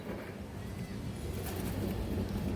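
Pigeons of old high-quality breeds, including full-ash-eyed birds, coo softly in their enclosure amid a steady background hum.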